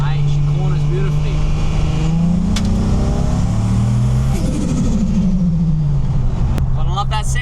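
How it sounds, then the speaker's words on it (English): A 1000HP Nissan Patrol revs hard on a track at a classic car show, its loud, close engine roaring continuously with rising and falling pitch sweeps as the throttle opens and eases. "Gotta love that sound, ladies and gentlemen."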